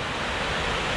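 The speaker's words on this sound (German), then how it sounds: "Und hier habt ihr den nördlichen Wasserfall." Steady roar of falling water from the north pool waterfall at the 9/11 Memorial in New York, a loud broadband rush filling the short moment with no voices.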